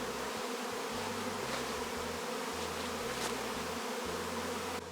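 A honeybee swarm circles a small acacia tree, its dense, steady buzzing drone filling the air continuously with no talking.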